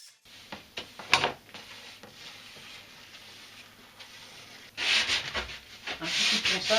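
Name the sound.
sanding wood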